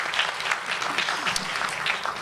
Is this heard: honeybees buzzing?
no